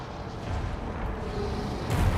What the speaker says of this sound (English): Nice explosion there on the Temple Guard